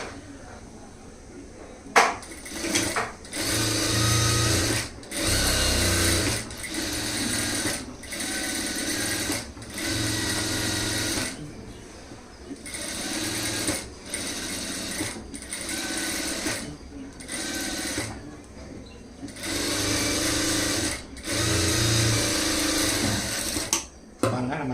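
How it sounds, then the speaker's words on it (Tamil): A sewing machine stitches around the curved edge of a blouse lining in steady whirring runs, stopping briefly between bursts, close and fairly loud. "இப்போ நம்ம ரவுண்டை சுற்றிக்க தையல் போட்டு எடுத்துடலாம்"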